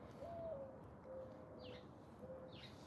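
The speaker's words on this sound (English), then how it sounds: "And they will all come and start, you know, chirping." Outdoor bird calls, soft and somewhat distant, come as a few drawn-out tonal notes over steady background hiss.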